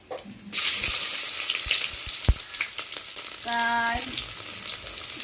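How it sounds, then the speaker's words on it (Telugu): Onions and curry leaves dropping into hot oil, an abrupt loud sizzle that keeps crackling close by with a few sharp pops, alone without talking. "ఆయిల్ వీడెక్కిన తర్వాత ఆనియన్స్ వేసుకొని కరేపాకు వేసుకున్నాం"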